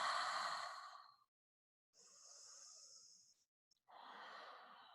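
Slow, audible breaths during a yoga pose, three long airy exhalations and inhalations separated by short silences, close and soft.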